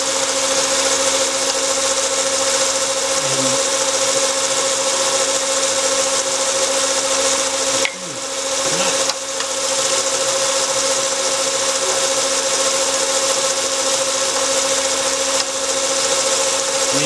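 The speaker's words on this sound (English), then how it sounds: "It's very hard to sand the bottom of the box." A small cherry wood box spinning on a lathe while its bottom is sanded, giving a loud, continuous motor drone with an even whirring hiss that dips briefly twice.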